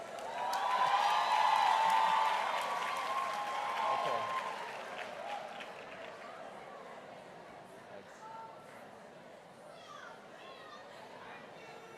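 A graduation ceremony crowd bursts into loud applause with cheering and whoops that swell for a few seconds, then fade into scattered clapping and murmuring chatter with children's voices, and a person speaks briefly.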